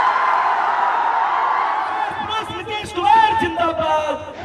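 Crowd cheering and shouting at Tejashwi Yadav's election rally in Bihar: a steady roar of many voices from a large gathering, with louder whoops and cries breaking out in the second half.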